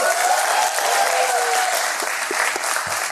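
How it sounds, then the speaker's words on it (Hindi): A stand-up comedy audience breaks into sustained, dense applause that fills the whole stretch at steady loudness, with no speech over it. "पहले तो मैं चाहता हूं कि तुम सब अपने लिए एक बार ताली बजा दो"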